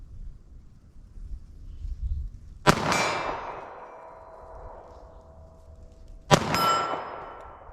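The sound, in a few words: pistol firing .380 ACP hard cast rounds at steel target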